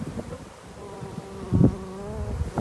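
A swarm of honey bees clustering on a box outdoors, droning in a continuous layered buzz with shifting pitches, close and fairly loud, swelling briefly in the middle as individual bees pass near.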